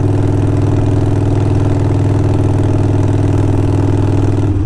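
A Harley-Davidson Sportster 48 with Kinetic 540 Laterals exhaust cruising in fifth gear at about 50 mph, a loud, steady, deep throbbing exhaust note held evenly throughout with no speech.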